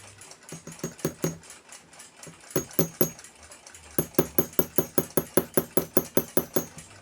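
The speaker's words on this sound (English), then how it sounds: "A bunch of small hits and it will slowly close up to size." Rapid series of small metallic hammer taps on a tapered punch closing a hole in a brass part of an 1887 Kroeber Marine ship's clock, in two bursts of steady, close, fairly loud strikes with no talk.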